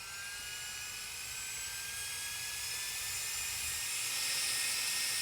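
A portable fan at its highest speed gives a loud, steady rush with a strong airy whoosh and high whine, holding constant and building slightly toward the end, with no talking.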